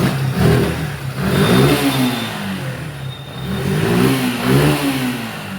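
A Suzuki Gixxer BS6 motorcycle engine, close by in a mechanic's workshop, is blipped twice in quick throttle revs that rise and fall back to a steady idle between.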